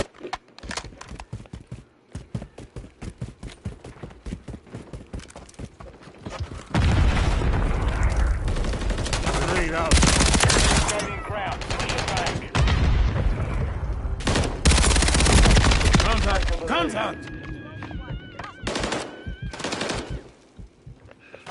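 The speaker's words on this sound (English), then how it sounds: "Taking fire!" Gunfire in the shooter Call of Duty Modern Warfare 3 on the Vista Del Mar multiplayer map: rapid machine-gun rattles and single shots, building into long, loud sustained bursts with booming impacts, then tapering to scattered shots.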